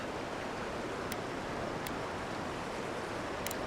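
A waterfall beside a cave in Avowed roars as a steady, dense rush of falling water, constant and fairly loud throughout, with a few faint high ticks over it.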